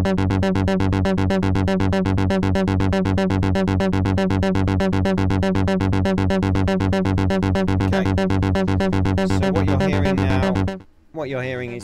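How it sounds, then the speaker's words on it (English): A modular synth VCO6 oscillator routed through a Tip-Top VCF drones as a steady, loud pulsing buzz rich in harmonics, cutting off near the end as a voice speaks briefly. "what you're hearing is just the VCO6."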